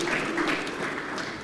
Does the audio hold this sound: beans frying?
no